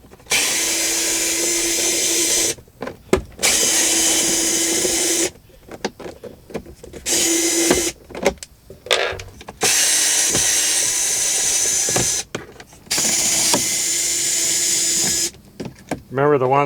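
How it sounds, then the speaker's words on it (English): A power drill backs out trim screws inside a 2004 Honda Element, giving loud sustained whirring bursts of several seconds each, separated by short pauses with faint handling noises, close by. "So I'm going to take all these screws out."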